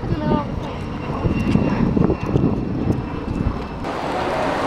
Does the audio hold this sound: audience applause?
no